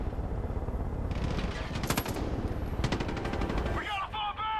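A rifle in the video game Far Cry 5 fires in rapid bursts of sharp shots over a busy rumbling background, ending in a brief electronic chirping.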